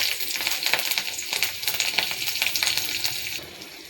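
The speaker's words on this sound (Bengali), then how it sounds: "রসুন কাঁচা লঙ্কা ভাজা হয়ে গেছে।" Garlic cloves and green chilies with five-spice seeds fry in hot oil, a bright crackling sizzle with sharp spattering pops throughout, easing slightly at the end; no one speaks.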